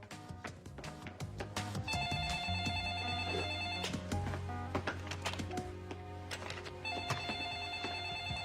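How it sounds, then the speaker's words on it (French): A telephone rings in repeated electronic bursts over busy background sounds and thumps, fairly faint and steady in rhythm. "personne n'entend sonner le téléphone ici"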